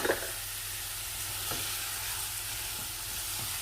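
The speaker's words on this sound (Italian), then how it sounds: "giriamo bene, altrimenti la cipolla si brucerà" Chopped onion and celery fry in a pan under a steady, close sizzle, with a few soft scrapes and knocks as a utensil stirs them and no talk.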